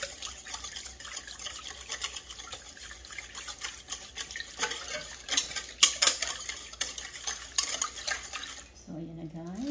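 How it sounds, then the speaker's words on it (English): Cake mix for a mini pineapple upside down cake being whisked in a bowl, a quiet, busy clatter of whisk against the bowl with irregular taps and scrapes, stopping near the end as a faint voice begins. "Nag-ihahalo na natin yung ating cake mix"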